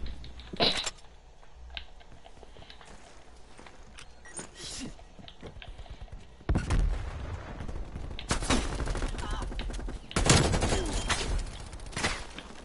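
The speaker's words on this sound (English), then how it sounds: "So who's shooting at me?" Gunfire in the video game Call of Duty Cold War: scattered shots early, then loud heavy bursts of automatic fire around the middle and again near the end, close and intense against quieter game ambience.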